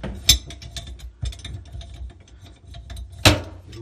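A ratchet wrench tightening a plumbing fitting, giving a few bursts of quick mechanical clicking with two sharper, louder clacks, close up with no talking.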